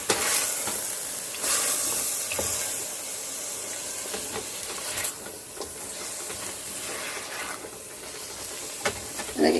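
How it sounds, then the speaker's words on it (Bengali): Chicken seasoned with turmeric and chili sizzles and hisses steadily in a hot pan, close and continuous, with occasional stirring scrapes breaking through the frying noise. "তো চিকেনটাকে ভালো করে কষিয়ে নিব এখন।"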